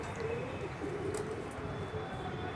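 Pet pigeons coo softly in a low, continuous murmur of repeated calls, faint and fairly close.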